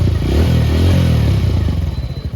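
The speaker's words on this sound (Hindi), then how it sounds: "यहाँ पे देख सकते हैं चाल भी काफ़ी अच्छा है और इंजन के साउंड भी बहुत ही" A TVS Radeon BS6 motorcycle engine, recently repaired after a misfiring problem, runs steadily up close with a loud, even thrum and a faint mechanical clatter that eases toward a pulsing idle.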